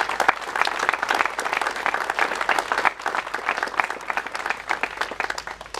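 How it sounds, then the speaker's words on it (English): A crowd applauds at an outdoor business announcement beside a 75,000 square foot building in Sedalia, with close, crisp, steady clapping that continues throughout. "Give those folks a round of applause."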